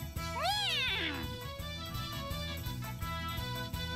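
A cartoon cat in the visual novel If My Heart Had Wings gives one drawn-out, rising-then-falling meow, loud and near, over steady background music.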